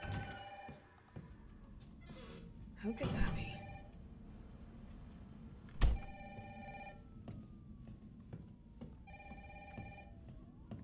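Telephone ringing in the video game Resident Evil 3, a repeating electronic ring in short evenly spaced bursts over a low background hum, with a couple of louder clunks in between.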